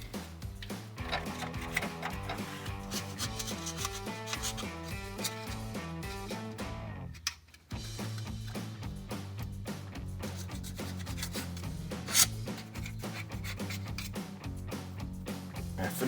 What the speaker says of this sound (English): Then you need to scrape off any leftover gasket material here.